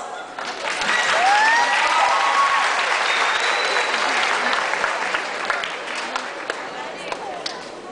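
An audience at a crowning ceremony for a queen contest breaks into sustained applause lasting several seconds, a dense wash of clapping with a few voices and cheers rising over it before it slowly thins out.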